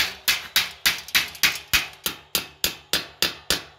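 Hammer blows drive a hammer-set wall anchor into drywall ceiling framing, about twelve sharp, evenly spaced strikes in quick steady rhythm, close and loud with no talking.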